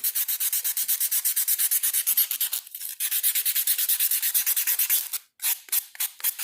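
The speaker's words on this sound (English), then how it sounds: "take some sandpaper here and start to shape it" Sandpaper rubbing by hand to shape and round over the sharp edge of a freshly cut motor mount, a steady run of close, rhythmic scratchy strokes with brief pauses between bursts.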